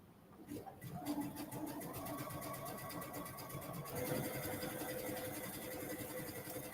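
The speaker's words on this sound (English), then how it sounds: "we're going to sew from the bottom of this pocket" A sewing machine stitches around a mesh pocket, giving a steady, quiet, continuous mechanical hum with rapid regular ticking throughout.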